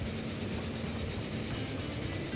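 A steam-era train rolls along in the Transport Fever video game, a steady low rumble with faint rail clatter that holds evenly throughout, with no voices.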